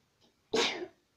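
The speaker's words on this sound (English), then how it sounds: "Excuse me for me sneezing." A single sharp, close sneeze follows a faint intake of breath. Quiet room, no talk.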